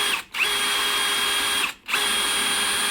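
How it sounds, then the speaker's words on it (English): A power drill bores a hole through a wooden door frame, whining steadily at close range, with two brief pauses where the motor drops off and spins back up. "we're going to drill a hole right through this door frame right here"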